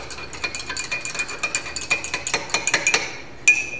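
A metal spoon clinks and scrapes rapidly against a dish while stirring, with a quick run of close, bright taps that ends in one louder clink.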